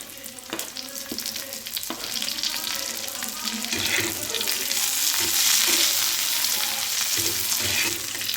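Green chillies, garlic and ginger roasting in a pan for a Khandeshi mutton thali, a hissing sizzle that grows louder, with occasional knocks of a utensil and a faint murmur of voice underneath.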